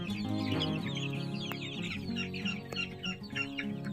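A crowd of hybrid laying-hen chicks peeps continuously at close range, their high chirps overlapping in a busy, unbroken chatter with no voices.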